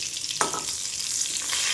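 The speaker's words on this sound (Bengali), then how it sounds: "মাছগুলোতে নুন হলুদ মাখিয়ে নিয়েছি, এখন মাছগুলো ভেজে নেব।" Small fish rubbed with salt and turmeric fry in hot oil with a close, steady sizzle and one sharp spatter as they go in, with no voices.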